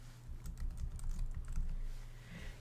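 Close-up clatter of a computer keyboard as a number is entered into a monthly revenue goal spreadsheet, a quick burst of soft keystrokes in an uneven rhythm with no talking.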